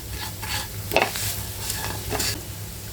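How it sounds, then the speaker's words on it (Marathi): Varai (barnyard millet) upma is stirred with rock salt and coriander in a pan, producing repeated scraping strokes of a spoon against the pan over a soft, steady sizzle. "मीठ घातल्यानंतर सगळं मिक्स करून घ्यायचं"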